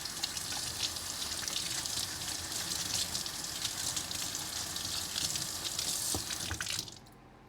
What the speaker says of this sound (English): Now these are also very dirty, so we're gonna give these a good wash first.